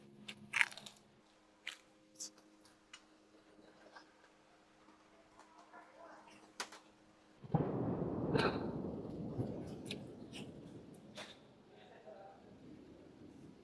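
Close, quiet crunching and chewing of crispy bagnet pork, with sharp bites early on and a denser stretch of crackly chewing midway; a few scattered clicks around it.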